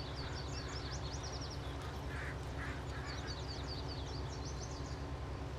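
Bird calls from a crow sound mod in the Farming Simulator 19 video game, faint repeated raspy cries in short bursts over a low steady in-game engine drone.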